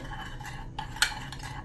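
A couple of soft clinks and scrapes from a small spoon mixing a paste with coconut oil in a bowl, quiet and brief against a faint background hum.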